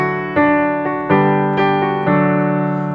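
Introduction melody played as a lead synth line, five or six distinct sustained notes struck one after another in a steady rhythm, clear and alone with no talking.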